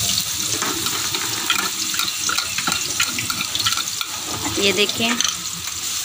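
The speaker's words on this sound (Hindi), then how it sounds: "उसके लिए हमने लहसुन पेस्ट किया हुआ था वो डालने लगे इसके अंदर।" Garlic paste sizzles and crackles in hot oil in a pan as a tempering for karhi, a steady close frying hiss with stirring scrapes, while a voice says a few words briefly.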